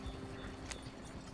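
Rapid hoofbeats of horses galloping in Red Dead Redemption 2, a clattering rhythm, close and fairly loud over a steady background hum.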